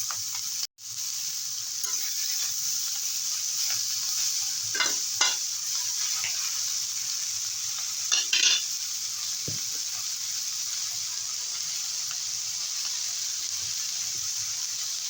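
Water spinach (kolmi shak) frying with prawns in a pan, a steady soft sizzle throughout with a few brief stirring clatters and a short cut near the start; no talking.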